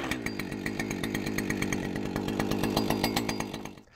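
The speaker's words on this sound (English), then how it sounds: "we can start and warm up the weed eater for a few minutes, and we'll vary the RPM as well" A weed eater's small two-stroke engine runs continuously during warm-up, a dense buzzing drone with rapid firing pulses and a steady rhythm, close and loud throughout before cutting off at the very end.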